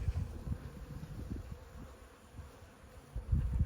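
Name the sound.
bees around a hive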